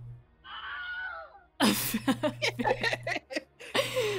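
Screams of tortured souls in the pits, imitated by a voice: a drawn-out wailing cry followed by a burst of shrieks and laughter from several people close by.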